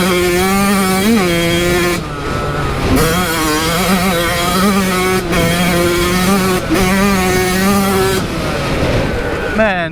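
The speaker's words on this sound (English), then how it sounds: "We can rip it through the gears, see how it sounds." A Yamaha YZ85 dirt bike rips up through the gears, its two-stroke engine screaming loud and close with repeated rising revs broken by brief dips at each shift.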